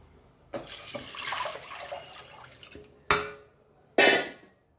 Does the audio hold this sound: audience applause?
no